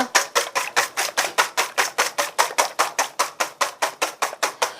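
A whisk beats egg whites by hand rapidly and evenly against a bowl, about four strokes per second, crisp and close with no talking.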